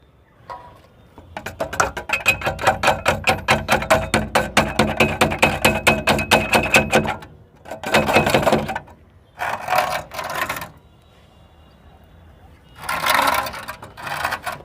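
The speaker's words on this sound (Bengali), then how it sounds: "প্রথমে আমরা দুটো কোনাকোনি স্ক্রু লাগিয়ে নিয়েছি।" A distribution board being screwed into place on a wall with a power screwdriver, one long run of rapid rattling bursts followed by several shorter close-up bursts with pauses between.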